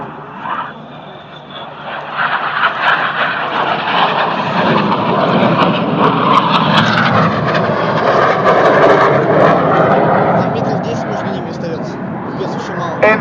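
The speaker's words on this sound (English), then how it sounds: "He's going to call a turn reversal here to get him and 7 to cross right in front of us." Red Arrows jets sweeping across in a turn reversal, a loud, swelling roar of jet engines that builds steadily and holds, heard close with a voice over the noise.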